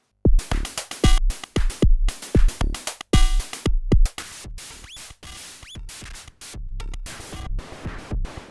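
Drums played through a distortion effect pedal: a run of punchy, crunchy hits in a rhythmic pattern, then a looser, sustained distorted wash with scattered hits, loud and alone.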